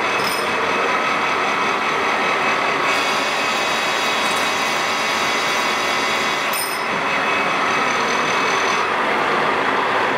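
A lathe insert cutting aluminum at 30 thou per rev makes a loud, steady machining roar and whine that runs unbroken throughout, with the motor and cut noise holding constant.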